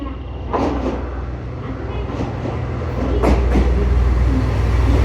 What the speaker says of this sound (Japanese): 3番乗り場、列車が参ります。